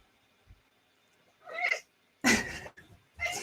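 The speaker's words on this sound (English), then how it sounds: "And Lily, that's my cat's name." A house cat lets out a few short meows in quick succession, close and fairly clear against a quiet indoor background.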